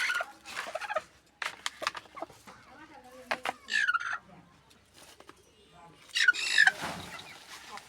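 Hens cluck in short, scattered bursts close by, rising to a few louder squawks near the end, over a faint background and some soft voices.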